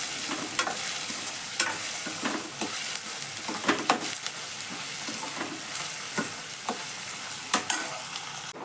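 Onion frying and being stirred in a pan for a matar kheema curry, a continuous sizzle broken by repeated scraping strokes of a spoon, close and steady, no speech.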